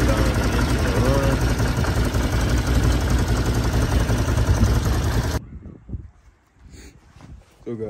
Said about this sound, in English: I am gonna turn the can-am on just to let the air bubbles and all that out.